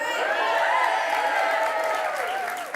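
A television studio audience applauds steadily and loudly on a French talk-show set, with whoops and cheering voices mixed into the clapping throughout.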